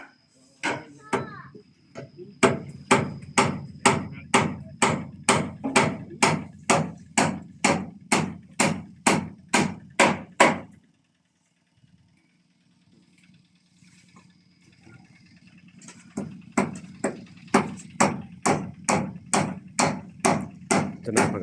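Wooden support props are hammered into place during house painting work, with two long runs of regular, evenly spaced loud knocks separated by a quiet gap with faint background hum.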